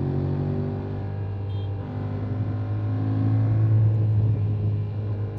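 Yamaha Tracer 7 motorcycle riding along a bumpy cobbled road, its engine a steady close drone with a low hum that swells slightly midway, wind noise running underneath throughout.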